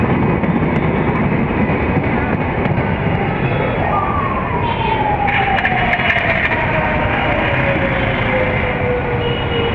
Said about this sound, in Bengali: রাজশাহীর উদ্দেশ্যে বের হয়ে যাচ্ছে মধুমতি এক্সপ্রেস ট্রেন